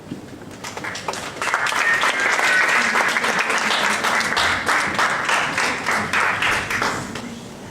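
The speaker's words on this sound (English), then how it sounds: "another round of applause for it" An audience applauds at a youth leadership program grand finale, clapping rising quickly into a full, steady round that continues for several seconds and tapers slightly toward the end.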